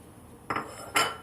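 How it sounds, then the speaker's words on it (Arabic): Two sharp clinks of a plate being set down and handled in a home kitchen, close and distinct, about half a second apart with quiet between. "انا عندي هجيب الطبق بتاعي اهو"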